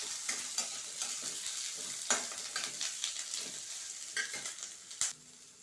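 Onions sizzle in a pan as a spoon stirs them, a steady crackling fry broken by regular scraping and tapping strokes against the metal, with one sharper knock near the end before the sound quiets.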